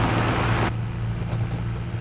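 A small tractor's engine drones steadily while driving in Farming Simulator 22, a low humming rumble that stays constant, preceded by a brief burst of broadband noise at the start.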